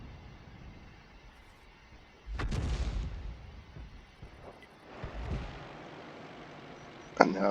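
A Bishop self-propelled gun fires blind shots in World of Tanks on the Province map, two muffled booms several seconds apart, each followed by a rumbling tail, then a sharper crack at the end, all fairly quiet.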